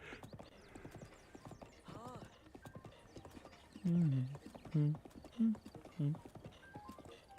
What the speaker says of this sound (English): This horse should just follow the road